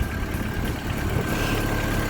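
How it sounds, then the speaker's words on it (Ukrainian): A VW Golf 2 GTI engine idles steadily and smoothly, a continuous close rumble with no other sounds. "оберти не плавають, все от прям гарно. Моторчик тут дійсно живенький."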